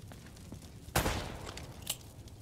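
Gunshots ring out in the video game Uncharted: Drake's Fortune, one sharp burst and then a smaller second shot, both faint and set against quiet background sound.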